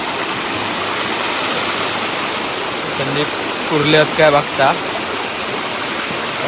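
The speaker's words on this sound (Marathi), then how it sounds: "ब्राह्मण देव मंदिर आणि असा खाली धबधबो" Loud, continuous roar of the Brahman Dev waterfall tumbling fast near a forest temple, with a voice speaking briefly over the rushing water partway through.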